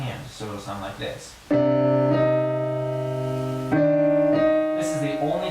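Piano playing the Shin Gojira theme with one hand part left out: long sustained chords ringing close and loud. Someone talks briefly before and after the held chords.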